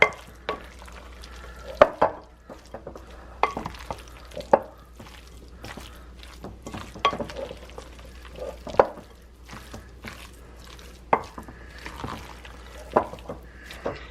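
Loaded potato salad with eggs, bacon, pickles and onion being mixed in a bowl, soft wet squelches and irregular spoon clacks against the bowl, close and moderate in volume, with no talking.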